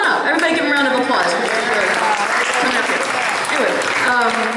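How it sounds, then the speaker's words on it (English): Loud, sustained audience applause at a live performance, dense continuous clapping with crowd voices and cheers woven through. "Everybody, give them a round of applause."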